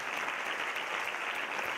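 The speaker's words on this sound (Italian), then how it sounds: "un grande applauso a questi due genitori che sono Franco e Barbara" Audience applause for two parents at a national singing contest final, a short, fairly quiet and even patter of clapping with no voices over it.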